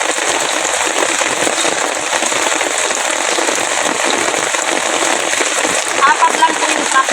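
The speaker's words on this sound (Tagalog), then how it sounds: "Medyo challenging ngayon dahil napakalakas ng ulan." Heavy rain pours steadily as a dense, loud hiss that stays unbroken throughout, with a few louder spatters near the end.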